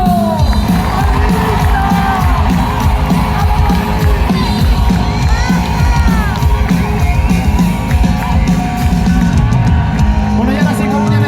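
Concert crowd at Morriña Fest 2025 in A Coruña cheering and applauding for a guitarist and singer, a loud continuous roar of yells, whoops and clapping throughout.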